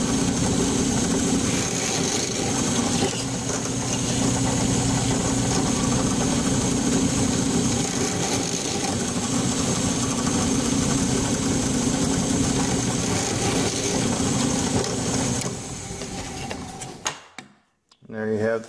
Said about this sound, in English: follow all the safety rules that apply to the drill press